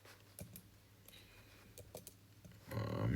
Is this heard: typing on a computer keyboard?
yes